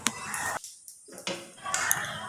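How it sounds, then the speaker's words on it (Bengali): Potato filling for chops tipped from a cooking pan onto a plate, with a few close metallic scrapes and clatters of the utensil against the cookware, separated by a short quiet gap. "এবার এটাকে নামিয়ে নেব, একটা থালার মধ্যে ঢেলে নেব।"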